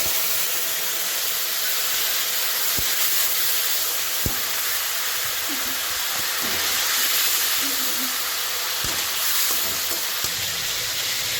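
Tomatoes with salt and turmeric fry in hot oil in a pan, a steady broad sizzle that holds throughout with a few soft clicks and knocks.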